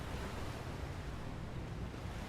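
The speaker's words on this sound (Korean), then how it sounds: "밤바다의 파도 소리 들으러 자주 왔었어요" Ocean waves at night wash in a continuous, quiet roar with a low rumble and soft hiss, with no voices present.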